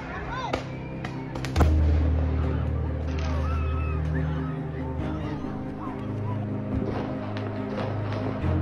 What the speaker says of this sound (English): You can hear the fireworks crackling. You can hear people screaming as well.